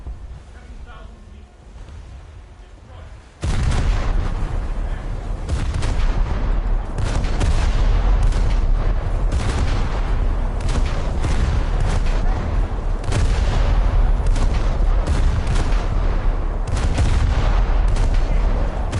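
Naval deck guns on a ship in War Thunder fire rapidly and continuously, a dense barrage of booming shots over a constant engine and water rumble, loud throughout after a quieter opening few seconds.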